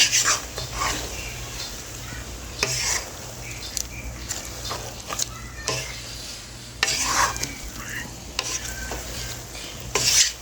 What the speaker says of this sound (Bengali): চিকেনটা দিয়ে আমি নাড়া দিচ্ছি।